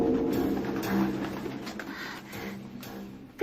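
Dove cooing nearby, soft low repeated coos in a gentle rhythm, heard alone without speech.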